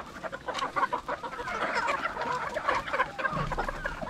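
A flock of chickens on a poultry farm clucks continuously, overlapping calls at close range with a busy farmyard murmur underneath.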